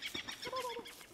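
A turkey gobbles in the Don't Starve video game, a brief warbling call of a few quick pulses heard faintly over soft game ambience.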